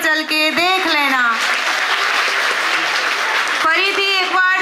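At a school Independence Day celebration, a burst of audience applause rises for about two seconds between stretches of a voice singing or speaking over it at the start and end.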